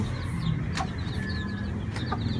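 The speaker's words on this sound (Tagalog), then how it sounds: "So, ito na nga po yung ating mga" Chicks and hens clucking and peeping, with short chirps and calls scattered over a steady farmyard background; moderately close, no talk.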